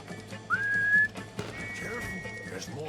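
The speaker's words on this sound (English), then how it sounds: "Oh god, not to listen to that whistling again." An 1899 police whistle in Red Dead Redemption 2 gameplay sounds as a clear, rising shrill tone held for about half a second, then a longer steady whistle over faint background game noise.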